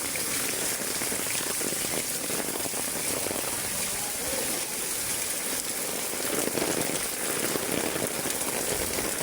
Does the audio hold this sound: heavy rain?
yes